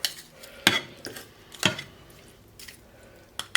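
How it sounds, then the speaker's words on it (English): Meat and its juices are scraped from a plate back into a pot for an Italian dish, with a few sharp clinks of a utensil against the plate and pot and soft wet squishing between them. "Now we're going to put our meat back in. And just the meat with all its juices, whatever was on the plate."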